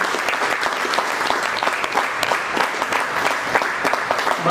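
Sustained applause from an audience welcoming a guest onstage at a hosted stage event, steady dense clapping at full volume throughout with a faint crowd murmur.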